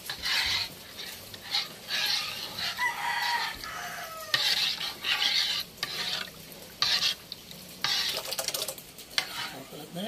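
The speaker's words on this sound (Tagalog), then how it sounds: "So yan po at hinahalo na ni tatay. Ang mating o ang ating bagoong." Bagoong, a fermented fish paste, stirred in a pan for ginataang burong isda, with repeated scraping strokes over a sizzle and a rooster crowing nearby.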